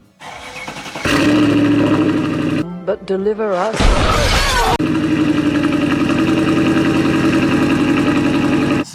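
A 2006 Mercedes CLS 55 AMG engine cranks and fires, revs briefly, then settles into a loud, steady close-up idle, with a few spoken words early on.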